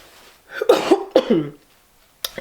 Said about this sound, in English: Yeah, I'm still coughing.